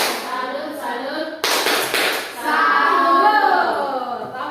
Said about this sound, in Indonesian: Kita tepuk salut untuk ini dulu